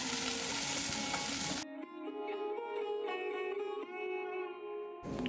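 Malabar spinach and jute leaf greens cooking in a pan, a loud hissing sizzle at first, then quieter stirring and faint frying, with the sizzle surging back at the end.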